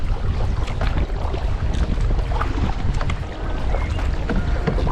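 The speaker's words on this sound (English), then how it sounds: "Very strong wind." Strong wind buffeting while canoeing at Narrawong: loud, constant rumbling gusts batter the microphone, with faint water movement and small knocks underneath throughout.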